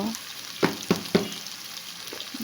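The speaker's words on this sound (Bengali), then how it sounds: "আমি এটাকে একটু ভাজার জন্য ওয়েট করব" Spice paste frying for chicken khichuri, a quiet steady sizzle with three sharp spoon knocks against the pot in quick succession, close, then fainter scraping.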